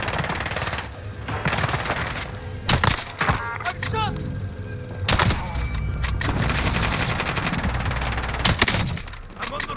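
Call of Duty gunfire in a Rebirth trios match, with bursts of automatic rifle fire and sharp single cracks recurring throughout over a steady background of battle noise, with speech mixed in at points.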